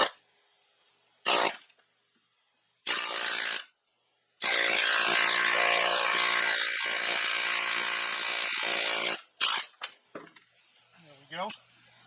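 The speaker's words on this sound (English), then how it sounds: "let me just drive it through with an air hammer" Air hammer driving a worn wheel bearing out of a Honda Fourtrax 300 steering knuckle: loud, dense rattling bursts, a couple of short ones then a sustained run of about five seconds, followed by quieter clinks and handling noises.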